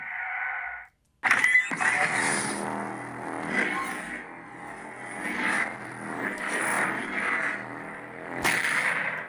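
A lightsaber sound font: a heavy, buzzing electronic hum with chunky swells and crackling flashes, close and loud, after a short tone and a brief silence at the start.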